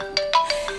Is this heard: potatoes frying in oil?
no